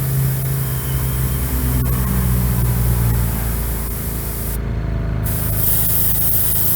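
Steady, close spray-gun hiss lays a coat of candy paint over chrome, running continuously with a low background rumble and no voices.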